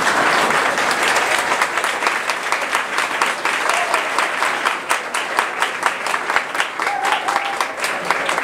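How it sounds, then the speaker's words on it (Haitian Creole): A standing audience at a tribute ceremony in Gonaïves applauds former Prime Minister Evans Ford with loud, sustained, dense clapping that fills the hall, with a little crowd murmur mixed in. "je vous demande de vous mettre debout pour applaudir l'ancien Premier ministre Evans Ford"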